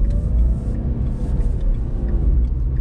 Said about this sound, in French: Regardez, on va faire une accélération.